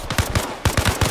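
Gunfire from Arma Reforger comes as rapid, loud, close bursts of automatic shots in two quick volleys separated by a short pause.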